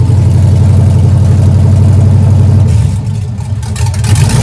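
An LS-swapped 1970 Chevy Nova V8 runs loud and close with a deep, lumpy idle, dipping briefly as it is shifted into drive, then settling back to a steady rumble.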